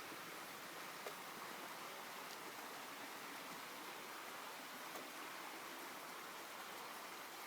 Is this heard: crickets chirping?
no